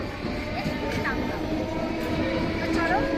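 A train at Chandpara railway station gives a low, continuous rumble with faint squeals, while a voice speaks over it.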